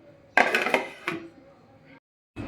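A lid settles onto a kadai pan with a few close metallic clanks and rattles, the heat just switched off, followed by a brief quiet gap and another soft clatter.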